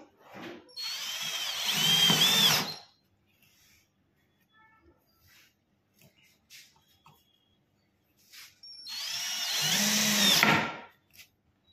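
Power drill driving stainless steel screws into a homemade PVC laminate edge-banding trimmer, two separate bursts of a few seconds each with a quiet pause between them, close and loud.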